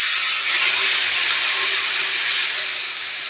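Water poured into a hot pan of fish curry sizzles with a loud, steady, close hiss that fades only slightly over a few seconds.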